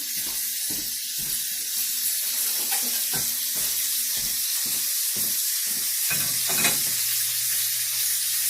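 Steady sizzling hiss of chicken searing in a hot pan, with occasional crackles and pops rising above the continuous frying noise.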